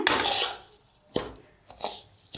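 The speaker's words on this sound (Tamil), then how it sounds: "முந்திரி வறுத்த நெய்யிலே நம்ம ப்ரெட்டு தூளை போட்டு நல்லா ஒரு வறுத்துக்கலாம்" Bread crumbs roasting in ghee in a pan are stirred with a utensil that scrapes and clinks against the metal in a few close, brisk bursts separated by short quiet gaps.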